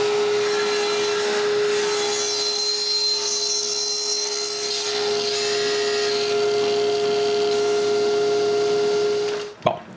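Steady, continuous sawing as a power saw cuts wood into quarter-round strips, a loud unbroken whine with a sharp pitched tone lasting nearly the whole stretch before cutting off abruptly at the end.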